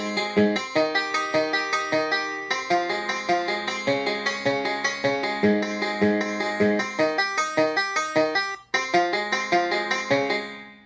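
Arpeggiated dulcimer for a country song, a steady stream of rapid plucked notes rising and falling in even rhythm, bright and close, with a brief dip near the end before the pattern resumes.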